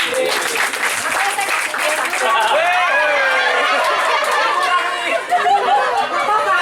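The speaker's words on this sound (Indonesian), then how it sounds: "tepuk tangan buat Piping dulu deh" An audience at a leadership seminar claps for a participant, loud clapping mixed with lively chatter, some laughter and overlapping voices throughout.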